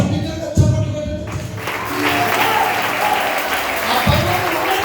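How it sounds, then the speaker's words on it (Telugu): Congregation clapping loudly during a Telugu Sunday school dedication worship song, a dense steady wash of applause with voices and thumps mixed in. "ఒకసారి బిగ్గరగా చప్పట్లు కొట్టండి."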